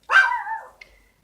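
A Pomeranian lets out one sharp, close bark, reacting to a neighbor's dog, followed by a faint high yip as it trails off.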